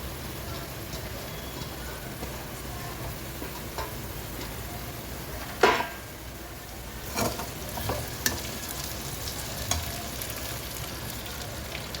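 Cluster beans and potatoes fry in a pan with a steady sizzle while a spoon stirs and scrapes, giving a few sharper knocks against the pan over the continuous crackle.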